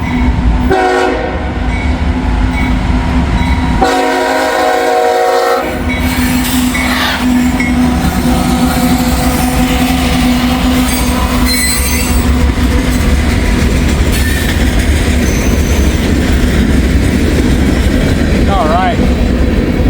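A Kansas City Southern freight train passing at Carthage, loud and close, horn blasts sounding early on over rumbling wagons, wheels squealing and clattering as it rolls by, with someone speaking partway through.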